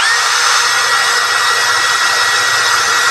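A Kyoal cordless drill running on a Dongcheng battery spins at its high-speed setting, around 1800 RPM, with a steady, loud, close-up whine that holds constant throughout with no talking.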